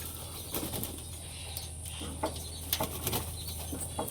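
Pigeons bathe in a water dish in the morning, with a broadband wash of splashing and bursts of wing-flapping, close by and fairly quiet, in a rainy-season setting.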